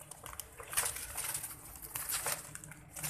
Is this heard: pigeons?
yes